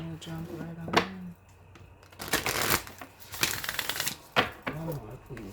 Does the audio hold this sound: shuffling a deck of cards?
yes